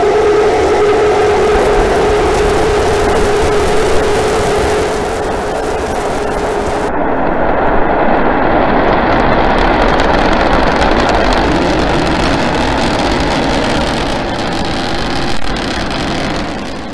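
SpaceX Starship SN9 with Raptor rocket engines roars at launch, a loud, steady, broadband rumble that holds unbroken throughout with no voices.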